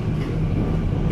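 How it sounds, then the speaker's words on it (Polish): A Wrocław line 9 tram takes a sharp curve on its rails, giving a continuous loud low rumble and grinding roll close by, with no voices. "stąd odgłosy skręcającego tramwaju słychać na nagraniu"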